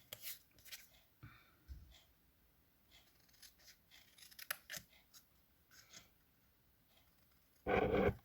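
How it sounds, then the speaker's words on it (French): Scissors snip through a small piece of card during holiday card decorating, a few quiet cuts followed by one loud, close burst of paper rustle near the end. "je viens découper"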